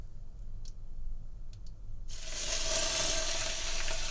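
Onions and chilies hitting hot coconut oil in a pan, a quiet start with a few clicks, then a sudden loud, steady sizzle that carries on to the end, heard up close with no talking.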